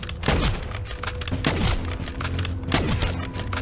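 Several loud, booming gunshots fire in quick succession in Call of Duty: Modern Warfare 3 Zombies, sharp blasts with heavy low-end thumps, close and punchy like game weapon fire.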